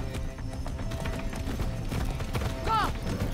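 Horse hooves clip-clop at a quick gallop amid busy Far Cry 6 game sounds, with a brief whinny near the end.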